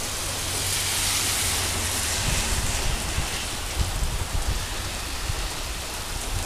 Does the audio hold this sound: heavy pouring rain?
yes